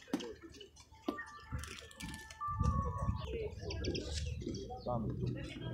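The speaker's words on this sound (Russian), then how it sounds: "Такие вот попугаи." Parrots, including rosellas and lovebirds, chirp and squawk in bursts at an outdoor bird market over steady background chatter and clatter, with a few sharp high calls standing out near the end.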